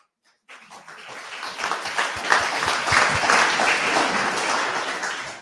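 Audience at a French charity pitch evening breaks into applause after a brief silence, building quickly into a dense, loud, sustained wave of clapping that holds steady to the end.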